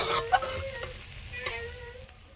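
Potatoes fry in a pan at home, making a short, close hiss and crackle with a faint stirring clatter that fades toward the end.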